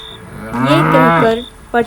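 A cow lowing at night in an animated story, one loud drawn-out moo in the middle with a short second call at the end, heard alone without talk.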